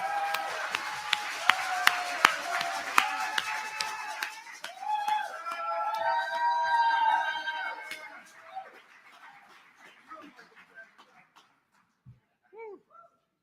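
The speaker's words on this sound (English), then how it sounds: "Give a shout and a warm round of applause" An audience at an event honoring Malcolm X claps and cheers, with scattered whoops and shouts over the applause, which gradually fades away into near silence.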